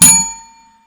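Notification bell ding sound effect: one loud, bright metallic strike with a ringing tone that fades out within about half a second.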